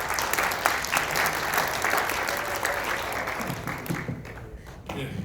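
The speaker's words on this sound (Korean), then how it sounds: "자, 다시 한번 박수 부탁드립니다." Loud, dense applause from an audience at a Korean talk event, sustained crowd clapping that continues steadily and thins slightly near the end.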